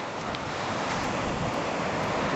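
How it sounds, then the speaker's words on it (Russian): Sea waves wash on the Sea of Japan shore near Vladivostok as a continuous broadband rush of surf, steady and fairly loud, with wind, and no speech. "Это. Японское море, да?"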